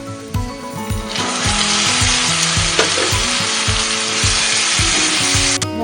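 Spices, tomato and onion being stirred and fried in a pan, a loud continuous sizzle with repeated scraping, knocking strokes of the utensil against the pan in a rough rhythm.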